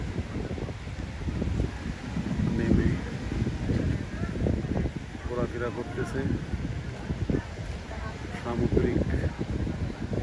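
Gusting sea wind at Patenga beach at low tide buffets the microphone in uneven rumbling waves, with a person talking over it throughout.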